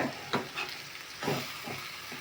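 Egg being stirred into green beans in a hot pan for a beans egg poriyal, a few soft scraping stirs over a faint steady sizzle, close and fairly quiet, no talking.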